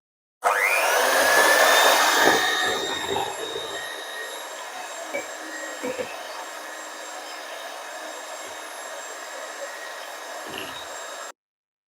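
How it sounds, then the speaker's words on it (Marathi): An electric blender whirs through melted ghee for Diwali karanji dough, a steady motor drone that starts loud and settles to an even level for about eleven seconds, with no talking. "बघा 1 मिनिट भरासाठी मी ब्लेंडर फिरवून घेतला"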